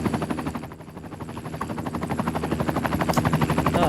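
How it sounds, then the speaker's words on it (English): In Cities Skylines II, a medical helicopter thumps with a rapid, steady rotor beat that builds as it draws nearer, loud and continuous with no speech. "A medical helicopter, sorry, has been dispatched."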